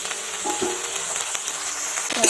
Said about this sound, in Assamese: এতিয়া মই বিলাহী কেইটুকুৰো দি দিছোঁ